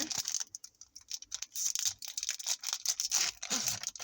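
A Pokémon trading card booster pack being torn open by hand, with close, crisp crinkling and ripping of the foil wrapper in uneven bursts, no talking.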